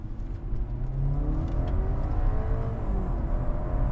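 A BMW G20 320i tuned to 340 hp accelerates hard in third gear, the engine note rising steadily and loud from inside the cabin, with no talk.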